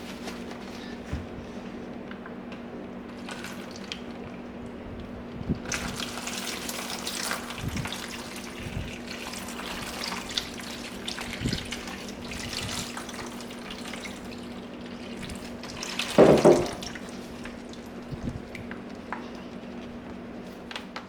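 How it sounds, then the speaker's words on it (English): Warm tap water running steadily onto a baseball glove during break-in and conditioning, a soft continuous trickle with faint drips and a brief louder splash near the end, no talk. "we're really going to focus the water here, avoid going directly down into our wells."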